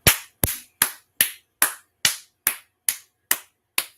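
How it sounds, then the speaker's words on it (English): Ten sharp claps at an even, steady pace, roughly two per second, each crisp and close with a short decay, from a brotherhood class session. "let's clap it up."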